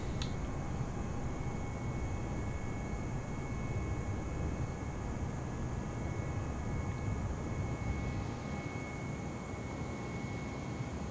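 Aircraft engine in Xbox Series X Flight Simulator during takeoff, a steady loud droning roar with a constant whine on top, unchanging for the whole stretch with no talk.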